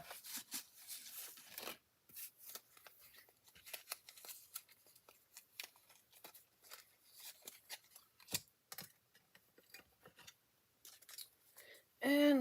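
Scissors snip out a die-cut paper piece from a latte-themed card collection, with many quick irregular cuts close up, soft paper rustling between them, and a brief louder tone at the very end.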